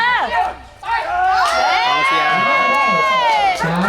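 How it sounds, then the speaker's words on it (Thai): Crowd at a red-versus-purple championship football match cheering and shouting continuously, with children's voices mixed in and a voice talking over the noise. "บรรยากาศการเชียร"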